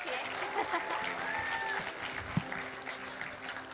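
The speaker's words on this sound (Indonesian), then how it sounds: "Boleh tepuk tangan dong" A studio audience on an Indonesian television talk show claps in a fairly quiet, steady patter, with a faint voice and a brief knock partway through.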